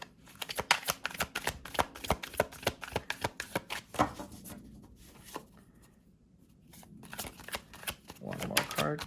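Tarot cards are shuffled and drawn in a rapid series of close, crisp flicks and riffles, followed by a quiet pause and then more card handling.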